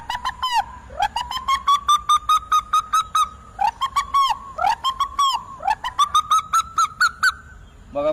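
A voice imitates a pigeon's call, a close, loud series of warbling, cooing whistled phrases repeated in rhythmic bursts over several seconds.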